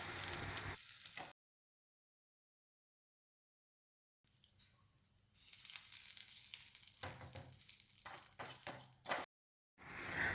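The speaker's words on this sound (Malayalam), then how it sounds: "നല്ല ചൂട് വെളിച്ചെണ്ണയിൽ കടുക്, ഉണക്കമുളക്, കറിവേപ്പില എന്നിവ ആഡ് ചെയ്തിട്ട് നമുക്കിത് കറിയിലേക്ക് ഒഴിച്ചു കൊടുക്കാം" Mustard seeds, dried chilli and curry leaves tempered in hot coconut oil are poured over beetroot pachadi, giving a burst of sizzling that breaks off into silence, then returns as steady crackling sputter near the mic for several seconds.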